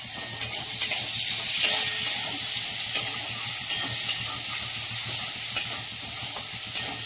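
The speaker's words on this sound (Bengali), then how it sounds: "তাহলে পেঁয়াজটা একটু নেড়ে নিই" Finely chopped onion frying in oil with ginger and garlic, a loud, close, steady sizzle broken by regular spoon taps and scrapes against the pan roughly every half second as it is stirred.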